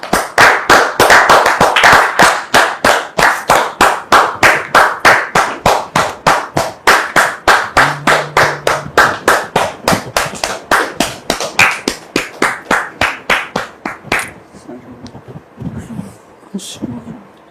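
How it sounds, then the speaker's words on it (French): An audience claps in unison to welcome a guest, with sharp, evenly spaced rhythmic claps that are loud and close and go on for about fourteen seconds before stopping, followed by brief talk. "Merci de recevoir notre frère sous vos applaudissements."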